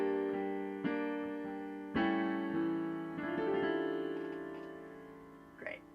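Solo piano playing a slow phrase, a few separate notes and chords struck one after another, each left ringing into a long sustained tail, moderately soft and clean with no voices.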